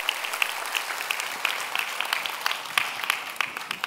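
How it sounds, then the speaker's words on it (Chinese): A crowd at a company introduction event applauds, with continuous overlapping claps of moderate loudness and a few sharper individual hand claps standing out. "那我们给公司个掌声，"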